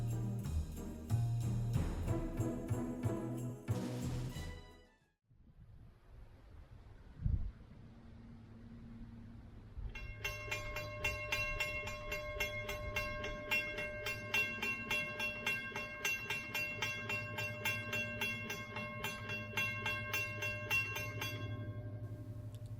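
The Florida East Coast Railway Christmas train rumbles past at Scottsmoor, first loud and close with a rising roar that cuts off, then a long, steady, tonal rolling and squealing of wagons continuing to the end.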